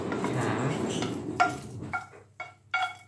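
Red chilies dry-roasted in a pan at home: a utensil scrapes and stirs against the metal in a steady shuffle, followed by a few sharp clinks and clatters, with a faint voice in the background.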